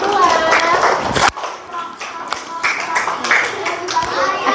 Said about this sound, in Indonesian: Oke, kasih tepuk tangan dong untuk kelompok